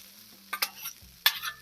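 Hash browns frying in butter on a griddle, a soft steady sizzle broken by a couple of brief scraping stirs from a spatula, close and quiet with no talk.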